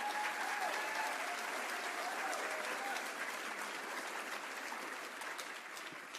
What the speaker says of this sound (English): Y'all give the employees a round of applause.